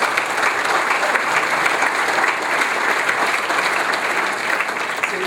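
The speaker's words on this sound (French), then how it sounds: "Je crois qu'on peut les applaudir aussi" An indoor audience gives sustained, dense applause at an official event, even and fairly loud from start to finish with no talking over it.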